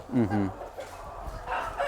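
Young chickens in a breeding farm house, a short loud cluck or crow up close followed by softer scattered clucks and bird calls, with faint talk in the background.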